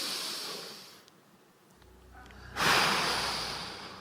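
A deep, audible breath drawn in during a guided group breathing exercise, a broad rushing inhale that swells loud near the end after a quieter pause.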